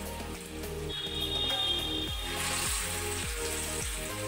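Banana flower fritters drop one by one into hot mustard oil, a steady crackling sizzle running throughout with soft plops as each piece goes in, close and moderately loud, no one speaking.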